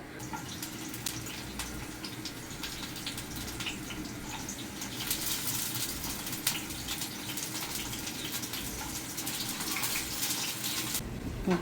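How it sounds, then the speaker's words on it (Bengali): Water running steadily from a tap into a household kitchen, a continuous close rushing splash that swells slightly midway, with no talk. "এদিক দিয়া পানি আনা হইতেছে"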